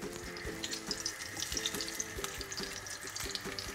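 Duck breast fries in a dry pan with crushed garlic cloves and fresh thyme, a steady close sizzle with light crackles and stirring clinks, no talking.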